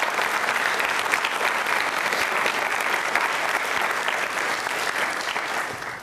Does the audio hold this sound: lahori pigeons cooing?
no